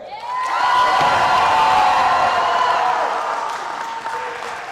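An audience at a Mr. & Miss pageant applauds the contestants, a loud sustained burst of clapping with a few cheers and whoops, fading slightly at the close.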